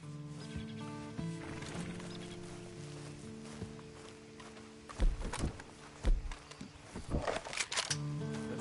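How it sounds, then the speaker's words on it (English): A horse in the video game Red Dead Redemption 2 snorts and shuffles with a few hoof thuds near the end, over a quiet musical score. "Then you better get on this horse."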